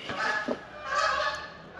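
Geese honk steadily from nearby as a noisy flock, their calls overlapping in waves with no talking.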